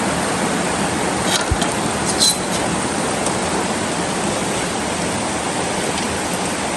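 Rainwater running steadily over a flooded, damaged road in Chitral after heavy rains, a continuous broadband wash with a few faint clicks, no voices.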